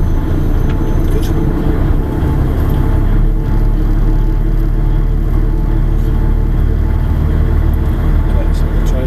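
A truck engine idles low and steady while the rig reverses slowly with a trailer, giving a continuous deep rumble that holds an even level throughout with no clear revving.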